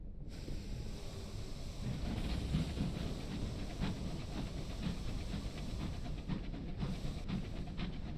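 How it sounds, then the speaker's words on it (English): A sky train engine in the video game Sunless Skies chugs steadily with a hissing, rumbling drive and faint rhythmic clatter, continuous and fairly loud throughout with no talk. "Listen to that faster chug noise"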